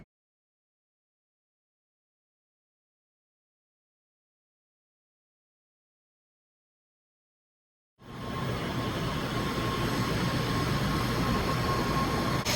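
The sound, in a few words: bullet train riding from Kobe to Osaka, Japan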